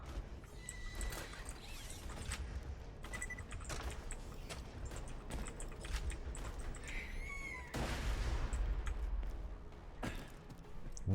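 Gunfire in the video game Borderlands crackles in scattered bursts of shots amid game effects and a rising whine, moderately close, with intermittent sharp reports throughout.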